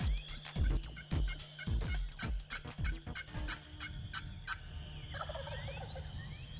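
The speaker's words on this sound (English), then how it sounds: "that first gobble of the season just gets your blood boiling" A wild turkey gobbles in a field at the start of the spring season, a series of loud rattling gobbles close by in the first few seconds, then fading into a quieter, steady outdoor background.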